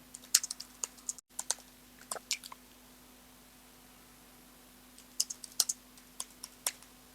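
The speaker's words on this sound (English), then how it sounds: "I can type in a question." Someone types a question on a computer keyboard in two quick bursts of soft, close key clicks separated by a short pause.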